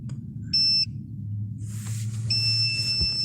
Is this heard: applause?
no